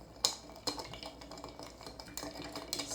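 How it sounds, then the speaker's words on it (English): Soft clinking of ice as a coffee old fashioned cocktail is stirred down with whiskey and fresh ice, light rhythmic tapping and scraping at close range with no talking. "Stir, stir,"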